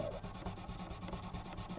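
Gator sandpaper rubbing over a guitar's finish in a steady, continuous scrubbing rasp, close and fairly quiet, with quick back-and-forth strokes and no voices.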